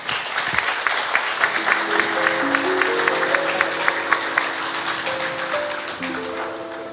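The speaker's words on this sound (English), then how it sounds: "A big applause." A conference audience applauds steadily, dense clapping throughout while some tonal music plays faintly beneath it.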